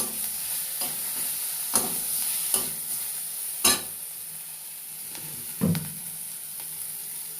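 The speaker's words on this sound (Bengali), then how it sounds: "টমেটোটা এর সাথে ভালো করে কষা করে নেব, পেঁয়াজ রসুন।" Tomato, onion and garlic sauté in a pan with turmeric and salt, giving a constant sizzle with periodic sharp scrapes and taps of a spatula stirring against the metal.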